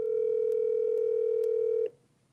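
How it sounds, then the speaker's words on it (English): A steady telephone dial tone holds loud and close for nearly two seconds, marked by a few faint dialing clicks, then cuts off abruptly into near silence. "So we're just gonna dial him back"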